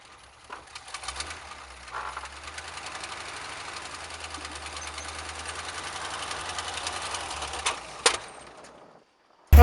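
A 1967 International 4x4 truck engine, fuel-starved, idling roughly after sitting twenty years. Its uneven knocking rumble builds slowly, climbs with a brief rev near the end, then cuts off abruptly.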